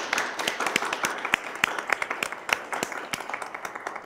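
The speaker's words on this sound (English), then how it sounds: "I want you and the audience to give you a round of applause to each other as well." Audience applause at a school quiz competition match between two teams, a fairly faint patter of distinct individual claps, irregular and fading slightly toward the end.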